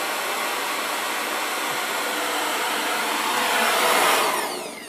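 A waste-oil-burning water heater runs with a steady, loud broadband roar like a blower, swelling slightly near the end before easing off, with no talk over it.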